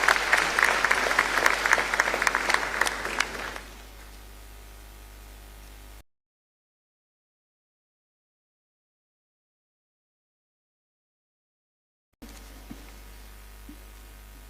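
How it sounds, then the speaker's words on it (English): An audience at an education address applauds with dense clapping for a few seconds, then it fades quickly into quiet hiss before a silent gap. "Let's welcome him with a round of applause."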